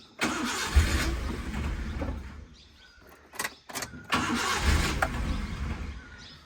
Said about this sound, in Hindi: गाड़ी क्रैंकिंग ले रही है, लाइट सब कुछ आ रही है, बस स्टार्ट नहीं हो रही है दोस्तों